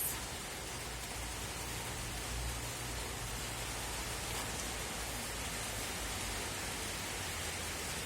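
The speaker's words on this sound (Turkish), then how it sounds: "Yağmurun sesi çok güzel." Steady, even hiss of rain falling, a continuous soft wash of noise with no pauses or voices.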